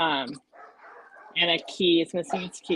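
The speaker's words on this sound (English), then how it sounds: "Sorry about the dogs." Dogs bark and yip in short bursts at moderate distance, mixed in with and under people talking.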